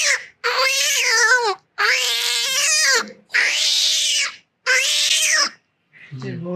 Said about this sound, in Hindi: अब बिल्ली जब लड़ती है जी, लड़ती है